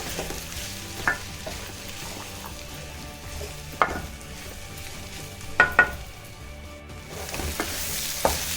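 Green peas and potato curry being stirred and fried in a pan: a steady low sizzle broken by scattered scraping knocks of the spoon against the pan, with no voices.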